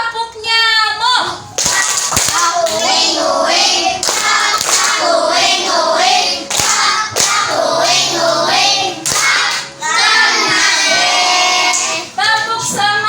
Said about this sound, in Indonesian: Kita tepuk nyamuk terlebih dahulu.